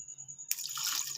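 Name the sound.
water poured into a pot of tinda gosht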